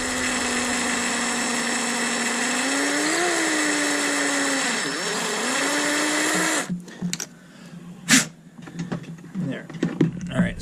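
A power drill bores a hole into a drone body, giving a steady, continuous whine that holds for several seconds with slight pitch dips before stopping abruptly, followed by scattered clicks and handling noises.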